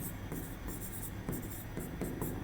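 Writing on a board during an electrical engineering lesson on alternators, a faint steady scratching of short strokes over a constant background hiss, with no talk.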